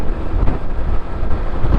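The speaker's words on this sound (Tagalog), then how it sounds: "ang lakas ng hangin" Strong wind rushes past a motorcycle rider on a city road, a loud continuous buffeting roar with low rumbling gusts and no voices.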